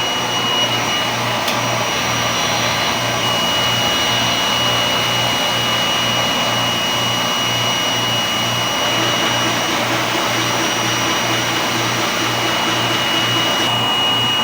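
A DTF printer runs its print head cleaning cycle with a steady whirring pump drone and a faint high mechanical whine, continuous and unchanging throughout.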